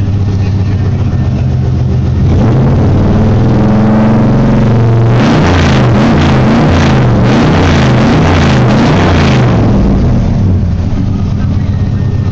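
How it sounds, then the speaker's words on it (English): A 1995 Chevy Silverado 1500 with a brand-new crate 355 Corvette V8 on a cold December start, idling low and steady, then revving hard for several seconds in the middle before settling back to idle, loud and close. "355 Corvette engine. Brand new out of the crate."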